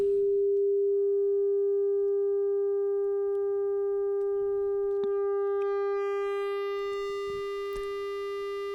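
A steady, loud pure sine wave tone with bright overtones building up as saturation makes it harsher and distorted, holding continuously without pause.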